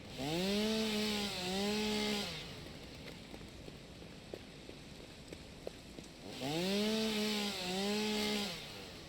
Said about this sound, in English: I'll have to do some chainsawing